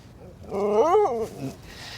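A sled dog whimpers, a single rising and falling whine that lasts about a second and is fairly close, then fades into a quieter whine against faint background noise.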